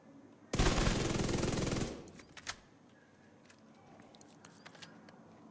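In the video game The Division 2, a Scorpio shotgun fires a dense, loud burst lasting over a second, followed by softer mechanical clicks and game ambience.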